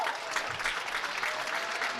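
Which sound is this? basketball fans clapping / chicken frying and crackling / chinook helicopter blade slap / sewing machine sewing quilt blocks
basketball fans clapping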